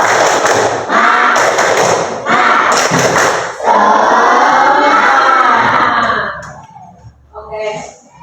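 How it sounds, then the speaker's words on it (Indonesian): Schoolchildren in an elementary classroom chant the rhythmic 'tepuk semangat' clapping cheer together, with loud voices in bursts broken by claps and a long shouted ending that fades into quieter chatter. "kita tepuk semangat dulu ya. Tepuk semangat."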